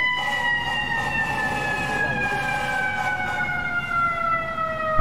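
A fire truck siren wails steadily in an emergency response game set in Brooklyn, its descending tones running continuously and loud with no talk over it.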